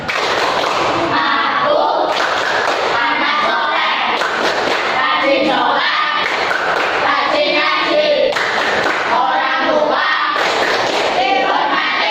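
Schoolchildren at an elementary school perform the 'tepuk anak soleh' clapping chant, loud rhythmic group claps and thumps mixed with chanted voices in a continuous, energetic pattern.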